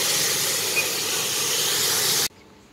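Ridge gourd dropped into a hot, spice-laden pan gives a loud, steady sizzling hiss that runs evenly and then cuts off abruptly near the end.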